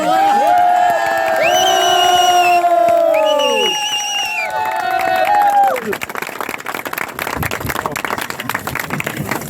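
Crowd at an award presentation in a hall bursts into loud applause and cheering, with shouts over dense clapping that thins into scattered claps after a few seconds.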